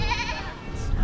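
A young goat bleats at an old hilltop fortress, a single drawn-out wavering cry heard close and fairly loud against outdoor background noise.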